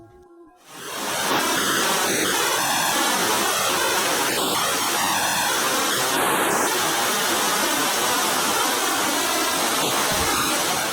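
Eternal Flame Falls waterfall in Chestnut Ridge Park, New York, a loud, steady rushing roar of falling water that swells in abruptly after a brief quiet start and stays constant.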